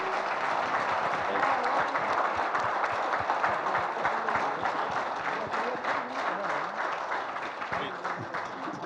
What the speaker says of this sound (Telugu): ఒకసారి అందరూ లేచి క్లాప్స్ తోటి